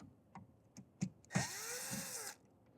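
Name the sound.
screws being removed from an RV door lock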